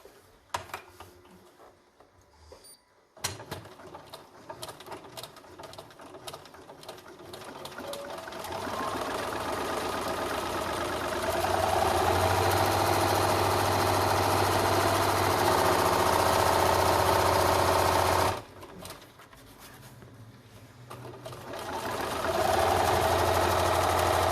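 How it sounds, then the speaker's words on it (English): A sewing machine runs in long steady bursts, top stitching fabric for a concealed carry belly band, with a loud, even motorized whir that pauses briefly and starts again, close up with no talking. "We also want to top stitch along the top of here now, and then I like to top stitch the bottom too."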